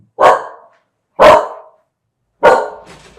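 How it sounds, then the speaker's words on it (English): A border collie mix dog barks three times in loud, close, evenly spaced bursts, each one a sharp bark that fades quickly, with quiet gaps in between and no other voices. "Oh, well, my dog."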